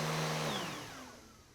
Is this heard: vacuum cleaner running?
yes